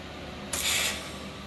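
A short hissing, crackling burst of a tack weld on the roll cage bars of a scale rail buggy, starting abruptly after a quiet moment, lasting about half a second, then fading into a lingering hiss.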